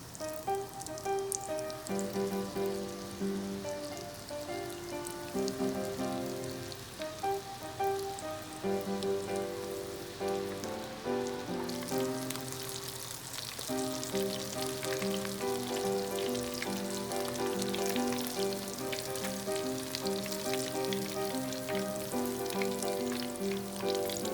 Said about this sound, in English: Fry the squid in oil at 180 degrees Celsius.